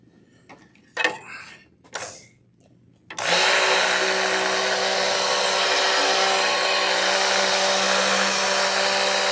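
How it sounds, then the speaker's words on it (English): A couple of clunks and handling noises, then a blender switches on and runs loudly and steadily without pause to the end, blending sodium lye solution for soapmaking. "I'm going to take my blender and I'm going to blend."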